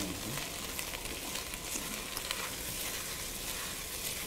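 Onions frying in a pan, a steady soft sizzle and crackle throughout, fairly quiet, with faint speech under it.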